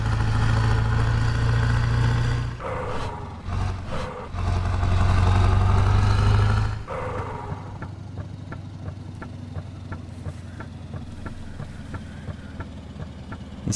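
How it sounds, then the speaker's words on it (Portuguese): A Scania V8 truck in Euro Truck Simulator 2 drones under acceleration on a mountain stretch, then drops to a quieter, steady engine note with regular ticking clicks, loud and close, without speech. "Bora acelerando aqui a Scaininha."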